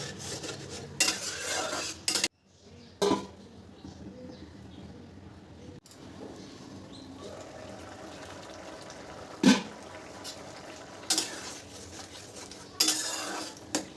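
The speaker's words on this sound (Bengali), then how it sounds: "তরকারিটা ভালো করে একটু নাড়িয়ে তারপর 2 থেকে 3 মিনিটের মতন এটা একটু ঢাকা দেব" Potato and jackfruit seed curry stirred in a pot, utensil scraping and clinking against the metal in scattered bursts, with quiet stretches between and faint birds cooing in the background.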